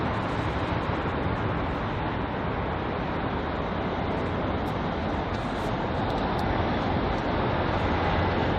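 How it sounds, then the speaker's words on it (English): A British Airways Airbus A320-200 arriving at London Heathrow, heard as a continuous broadband roar of jet engines that holds steady and loud throughout with no talk. "a British Airways A320-200 arriving from Madrid"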